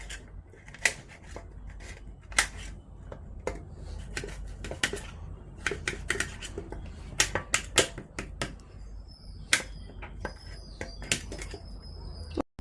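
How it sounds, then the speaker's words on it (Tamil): A knife cuts a carrot into small pieces, producing a steady run of sharp, close taps and clicks against a cutting board, irregularly spaced, with no talking. "குட்டி குட்டியாக வெட்டி எடுத்துக்கோங்க."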